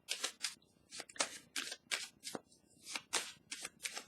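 Tarot cards are shuffled and drawn in quick, crisp bursts of riffling and flicking, repeated about a dozen times at close range with short pauses between.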